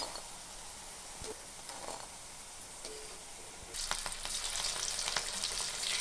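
Pieces of bitter gourd sizzle as they fry in hot oil, a steady crackle with occasional pops that grows louder and denser toward the end; no voices are heard.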